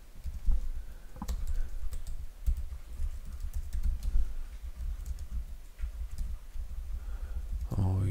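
Computer keyboard typing, a steady run of soft, fairly close key clicks continuing for several seconds over a low background hum, with no voices.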